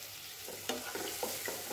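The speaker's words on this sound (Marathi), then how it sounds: "फ्लावर व्यवस्थित परतून घ्यायचा आहे, म्हणजे त्याची चव अशी छान येते।" Cauliflower stir-fried in a pan, a soft continuous sizzle with a few faint stirring scrapes, quiet and close.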